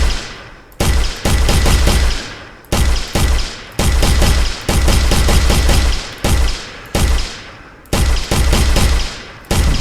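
Bursts of rapid automatic gunfire from a gun in an Unreal Engine 5 template game, loud and close, coming in repeated volleys of roughly a second or two separated by brief pauses, with no talk.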